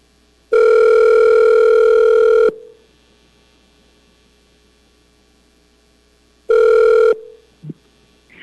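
Telephone ringing heard during an incoming call: two loud electronic ring bursts, one long of about two seconds and a shorter one several seconds later, with a steady low hum between them and a faint click at the end.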